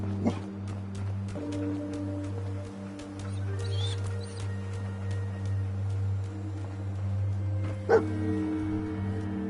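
Dogmeat, the dog companion in Fallout 4, barks and yips several times over a steady low in-game hum, with sharper barks near the start and again toward the end.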